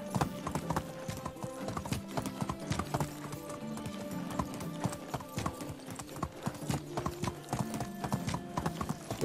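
Horse hooves clip-clop steadily and close in the medieval life-sim game Medieval Dynasty, a brisk continuous rhythm of hoof strikes with occasional faint whinnies and game ambience.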